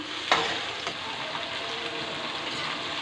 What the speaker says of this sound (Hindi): इसको मैं अच्छे से फ्राई कर लूँगी